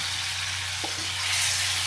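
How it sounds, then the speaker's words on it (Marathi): Fish dropped into a hot pan of oil hisses into a loud, steady sizzle that runs close and unbroken, with a brief soft knock near the middle. "आता ही मच्छी सोडली बघा."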